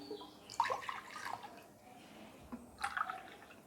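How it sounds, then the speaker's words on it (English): Warm water is poured into a bowl, giving soft splashing and dripping in two brief bursts separated by a quieter stretch. It is faint and close, with no talking. "So take 4 cups of warm water in a bowl"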